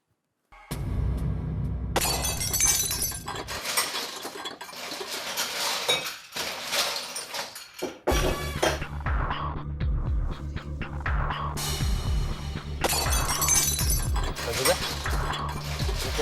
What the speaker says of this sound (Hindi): किचन से बर्तन गिरने की आवाज आ रही है।